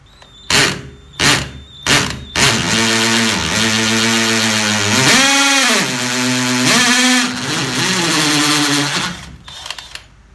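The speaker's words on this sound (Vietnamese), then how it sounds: "Mình thử khoan lại cho các bạn xem một lần nữa nhé." DeWALT DCD700 cordless drill boring into concrete: a few short trigger bursts, then a loud, sustained whine that dips and rises in pitch under load before stopping.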